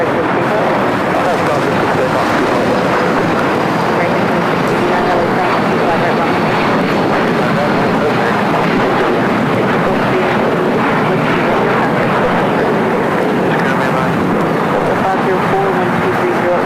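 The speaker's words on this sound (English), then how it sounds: "Eva Air, 777-300ER, now pushing it back." An EVA Air Boeing 777-300ER in older livery being pushed back at Los Angeles International Airport, a loud continuous engine roar with wind buffeting that stays level throughout, under steady talking.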